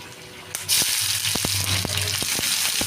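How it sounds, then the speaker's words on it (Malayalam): Oil sizzles loudly with a sudden surge as something drops in, followed by sharp scattered pops and crackles of seeds bursting, close up. "കടുക് പൊട്ടി വരുമ്പോൾ നമുക്ക് വറ്റൽമുളക് ഇട്ട് കൊടുക്കാം"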